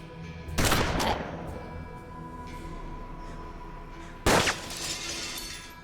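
Gunfire in the western video game Hard West, two sharp loud bursts of shots with a crackling, shattering tail, separated by a few seconds of low ambient game music.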